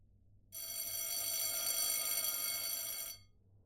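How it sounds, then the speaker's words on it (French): A loud electric bell rings continuously for about two and a half seconds, then stops abruptly, with quiet room tone before and after. "dès que la sonnerie retentit"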